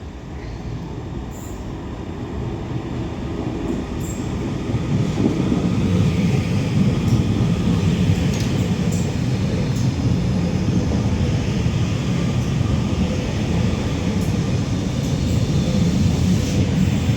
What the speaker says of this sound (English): Now passing through is going to be another Transpennine Express Class 397